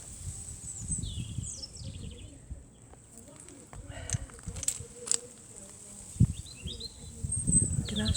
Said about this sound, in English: You can actually hear the birds singing.